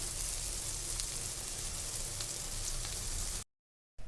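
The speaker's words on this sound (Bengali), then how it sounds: "এখন আমি বেগুনটা ভুনা করে নিচ্ছি" Eggplant frying in hot oil for eggplant bhuna, a steady close sizzle and crackle that runs on evenly, then cuts briefly to silence near the end.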